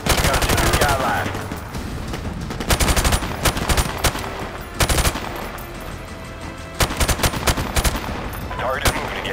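Loud gunfire from Call of Duty 4: Modern Warfare Remastered, set in Russia, comes in repeated rapid automatic bursts and sharp single cracks, mixed with shouted radio-style voices and battle ambience.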